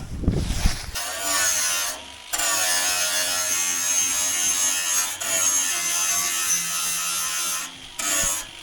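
A cutting disc on an angle grinder rides along a metal lip during a vintage Polaris single-cylinder racer conversion, giving a loud, sustained high whine with a few brief pauses and restarts, close by with no talking.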